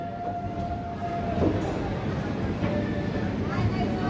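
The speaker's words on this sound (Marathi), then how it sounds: "बरोबर 12:01 निजामाबाद एक्सप्रेस निघालेली आहे लातूर रोड रेल्वे स्टेशनवरून" The Nizamabad Express (11414) pulls out of Latur Road railway station, a steady low rumble of the moving train that holds through the whole stretch, with a faint tonal whine running over it.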